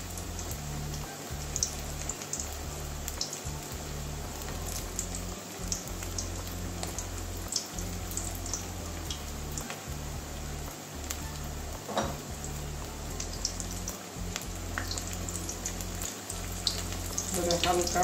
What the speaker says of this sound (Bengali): তিনটে তিনটে করে ভাজবো